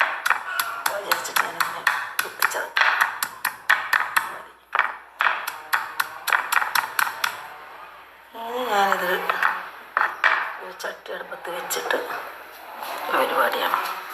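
Chilli, garlic, ginger and shallots crushed by hand for a chicken dish, giving a run of close, sharp knocks in quick rhythm, with someone talking over and after the pounding.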